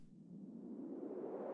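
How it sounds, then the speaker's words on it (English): Filtered white-noise riser used as a transition in 90s dream trance production, a swelling whoosh that climbs steadily in pitch and loudness over under two seconds, heard alone. "noise rise"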